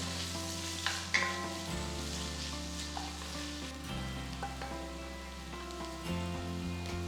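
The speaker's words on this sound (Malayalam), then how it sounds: "ആ ഒരു സവാളയും 1/2 കപ്പ് ചുവന്നുള്ളി സ്ലൈസ് ചെയ്തത് അതുകൂടെ ഇത് നന്നായിട്ട് മൂപ്പിച്ചെടുക്കാം" Sliced onions and shallots sauté with salt in a hot pan, giving a steady, close sizzle and crackle of frying with faint stirring, no talking, over a low continuous hum.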